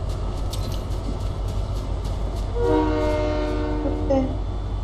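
A train in the Fortnite video game rumbles steadily over a loud low background, with a sustained horn blast sounding partway through.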